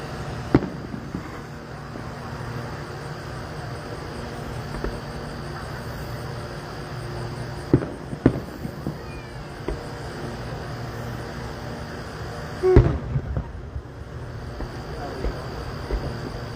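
Fireworks exploding at a Kentucky display in Leitchfield, heard as a few scattered distant booms over a steady bed of crickets and ambient noise, with one sharper, louder burst near the end.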